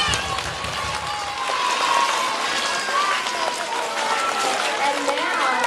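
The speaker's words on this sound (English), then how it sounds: "Let's give them a round of applause." Children and adults at a school writers' celebration clap for their teachers, a close, lively burst of uneven hand claps with excited voices and chatter mixed throughout.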